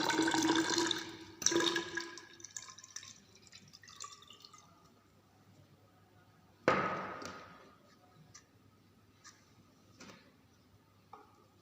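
Water pours into a measuring jar in a civil engineering lab test on sand bulking, with a couple of splashy bursts of filling and faint drips in between, close and moderately loud.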